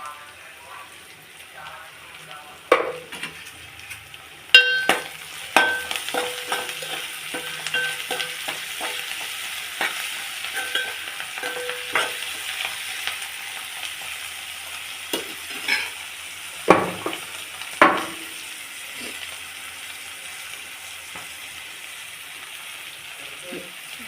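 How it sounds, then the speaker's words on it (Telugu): Onions frying with salt in a pan, a steady sizzle broken by repeated spatula scrapes and clinks as they are stirred, close and moderately loud throughout, with no voices. "ఉల్లిపాయ అన్నీ వేగిపోయినాయి."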